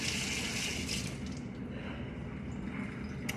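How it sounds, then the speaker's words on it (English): Leftover cabbage is rinsed at a sink while setting up a lactic acid fermentation, with water running and splashing steadily close by. "So I do have a little bit of cabbage left over. Gonna rinse off."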